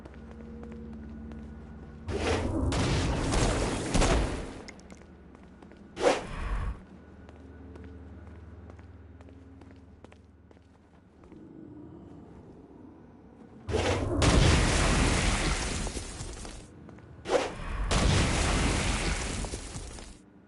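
Stone Blast power slamming into flying demons in Saints Row: Gat out of Hell, heard as loud booming impacts in two bursts with a sharp thud between, over quieter game ambience.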